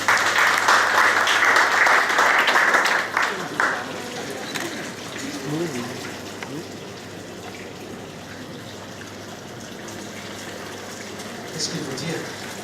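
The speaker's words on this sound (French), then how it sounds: "Allez, on peut vous applaudir," Audience applause for Gilbert at a silver medal ceremony in a restaurant courtyard, a loud dense burst for a few seconds that fades into lighter clapping and murmuring voices.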